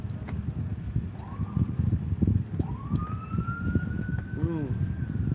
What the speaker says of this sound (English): I just heard an ambulance